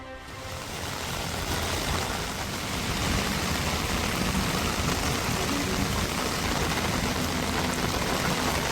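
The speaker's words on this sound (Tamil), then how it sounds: "சென்னையில் பெரும்பாலும் வானம் மேகமூட்டமாக உள்ள நிலையில் புறநகரில் விட்டு விட்டு கனமழை." Heavy rain pouring down in Chennai's suburbs around Tambaram, a dense, steady broadband roar of falling water that continues unbroken throughout with no voices.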